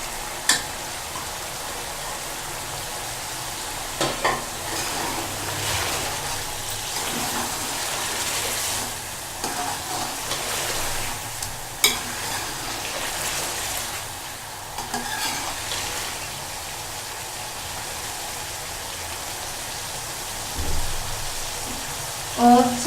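Julienned ginger sizzles in a frying pan for restaurant-style chicken malai, a steady crackling hiss broken by repeated scraping stirs and clinks of the spoon against the pan.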